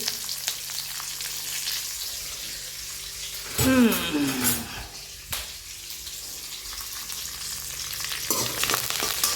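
Peanuts and curry leaves frying in hot oil in a home kitchen for a breakfast dish, a steady sizzle with a louder burst of spattering midway, then a calmer crackle continuing throughout.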